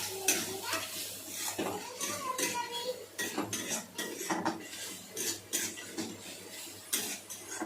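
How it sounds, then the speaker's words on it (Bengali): Snails sautéed in a pan with turmeric, chilli and cumin powders, heard as repeated clanking and scraping of a utensil against the metal pan with faint sizzling underneath, fairly quiet and close, with a little background voice. "এখানে হলুদ গুঁড়ো, লঙ্কা গুঁড়ো, জিরে গুঁড়ো দিয়ে দিয়েছি। ভালো করে একটু কষিয়ে নেব।"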